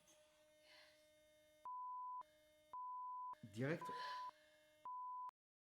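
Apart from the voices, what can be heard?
robot beeping after button pressed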